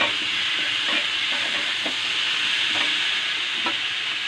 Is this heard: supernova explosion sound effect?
no